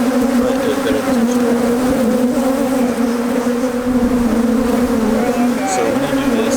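Honeybees from a strong hive swarming around it in winter, a loud continuous droning buzz close by that holds steady throughout with no pauses.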